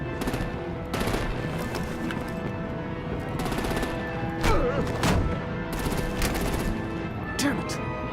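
Gunfire crackles in Batman: The Enemy Within, bursts of shots landing in repeated clusters over a dense game soundscape with music, with talk mixed underneath.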